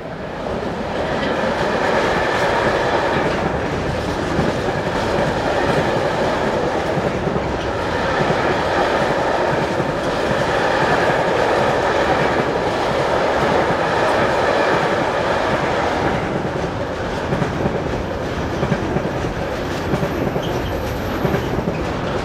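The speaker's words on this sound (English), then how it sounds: "Metrans' 386005 heads north with this lengthy container train from Dunajska Streda in Slovakia" A long Metrans container freight train hauled by locomotive 386005 rolls through the Elbe valley near Usti nad Labem, a loud sustained rumble with continuous wheel clatter throughout.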